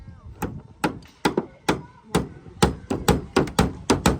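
Wooden planks are hammered onto a bridge under construction, giving a steady series of about a dozen sharp, close, loud wooden strikes, evenly spaced with short gaps between blows.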